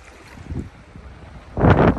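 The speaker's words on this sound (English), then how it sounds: "It's not real wavy, but it is windy." Gusts of wind on a beach buffet the microphone, a soft rumble that swells into a loud roaring blast near the end.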